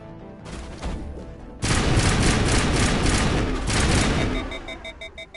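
Rifle fire from Mass Effect on the icy world of Noveria: after a brief lull, a rapid sustained burst of automatic shots crashes in loud and close, rattling on for a few seconds before tapering into a few spaced, ringing shots.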